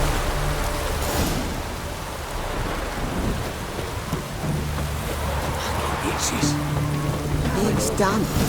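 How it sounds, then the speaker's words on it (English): Rain pours in The Witcher 3 as a dense, steady hiss of falling water with low rumbling undertones, continuous and fairly loud across the whole stretch. "It's raining."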